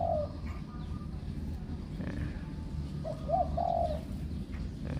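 A dove, kept as a caller bird in Thailand, coos in short throaty phrases over steady outdoor background noise, with a couple of faint chirps and no talking.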